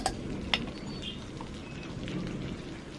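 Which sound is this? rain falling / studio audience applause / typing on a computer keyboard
rain falling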